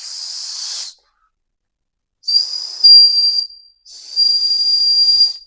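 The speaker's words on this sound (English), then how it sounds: "you can make as a whistle." A small whistle built into a pair of fishing pliers is blown three times: a shrill, close, high-pitched hiss-like tone, the first under a second long and the next two longer, with clear silences between.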